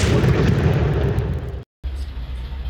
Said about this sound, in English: the enemy is shooting back at us